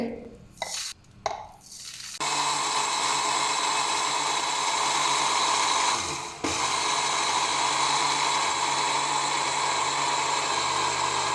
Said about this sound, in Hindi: इसी तरीके से सारी अलसी को ग्राइंड कर लेंगे थोड़ा थोड़ा करके।